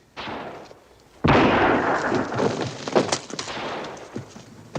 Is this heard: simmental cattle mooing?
no